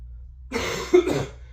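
A couple of short, harsh coughs from a person with a head cold break the silence in a home gym, close to the microphone, followed by a rough throaty rasp.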